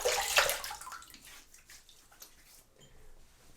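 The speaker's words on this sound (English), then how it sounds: "let's have a rinse and see if I got everything" Water splashes and runs as a face is rinsed after a wet shave, a burst of close splashing at the start that thins into quieter dripping and trickling. No one speaks.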